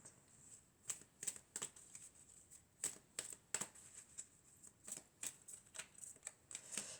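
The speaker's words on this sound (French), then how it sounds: "Alors, on va mélanger d'abord, et puis on va prendre une dernière carte." Tarot cards being shuffled by hand during a reading, a run of crisp, close riffling bursts that come in irregular clusters over a quiet background.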